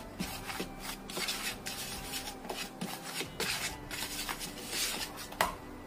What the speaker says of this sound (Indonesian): Kita aduk lagi sampai tercampur rata